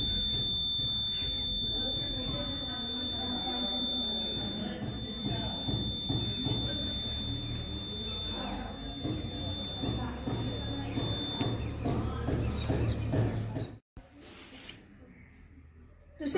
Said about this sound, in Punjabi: ਜਦੋਂ ਅਸੀਂ ਅੱਗ ਨੂੰ ਟਿਊਬ ਲਾਈਟ ਸਟਾਰਟਰ ਦੇ ਨੇੜੇ ਲੈ ਕੇ ਜਾਂਦੇ ਹਾਂ ਤਾਂ ਬਜ਼ਰ ਵੱਜ ਪੈਂਦਾ ਹੈ